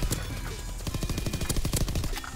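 Rapid PPSh-41 submachine gun hip-fire bursts in the video game Call of Duty WW2, a dense rattling string of close, loud shots with brief gaps between bursts.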